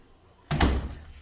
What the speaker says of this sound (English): there is this door here that will close